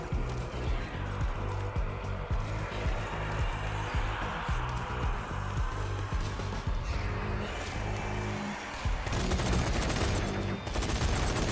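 Rapid gunfire in a zombie shooter game, dense bursts of machine-gun and rifle shots in quick succession over a busy background, briefly pausing before another loud volley near the end.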